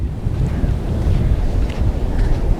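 Dangerous high ocean waves roll in at Alappuzha beach in a steady, loud roar of surf, with strong wind buffeting the microphone throughout.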